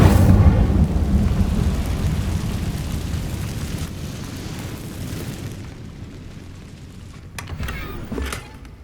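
A fire spell is cast in Hogwarts Legacy, giving off a deep rumbling whoosh and roar that slowly fades, followed by a few faint crackling hits near the end.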